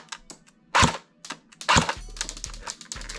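Shots from an airsoft AK-47 rifle during a feet-per-second test, two sharp snapping cracks about a second apart followed by light mechanical clicks and rattles.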